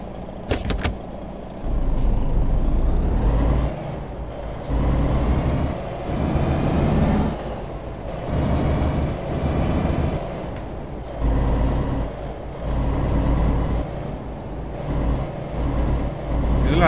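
A heavy truck in Euro Truck Simulator 2 pulls away with a loud, steady engine drone that rises and falls as it shifts through gears, and a few sharp clicks come at the start.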